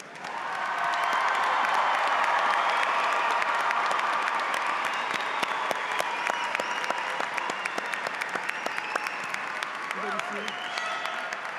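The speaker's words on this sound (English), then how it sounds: "How about a round of applause for our graduates?" A high school commencement audience applauds its graduates, a dense, loud wash of clapping with scattered cheers that rises quickly and holds steady throughout, a few voices calling out near the end.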